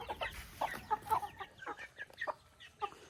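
Chickens cluck softly while eating grain in the morning, making a run of short, close clucks and chirps at an uneven rhythm in a quiet outdoor setting, with no voices.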